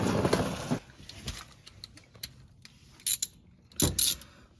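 A ratchet wrench clicks in short bursts while axles are pulled from a Lexus GS430, close and fairly crisp, with pauses and a few clanks between the ratcheting.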